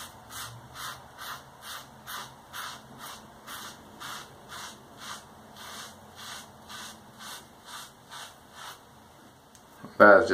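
Parker Variant safety razor shaving through lather, giving a steady series of rhythmic scraping strokes, roughly one every half second, close and clear, ending in a louder rinse-like burst.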